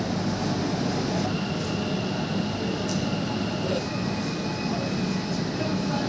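Kolkata underwater metro train pulling into a station platform with waiting passengers, a steady loud rumble and hum filling the whole stretch, with faint crowd murmur beneath.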